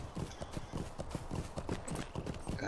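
Hooves of a horse or mule clip-clop in the LOTRO video game, a steady walking rhythm of distinct close thuds over the whole stretch, with no talking.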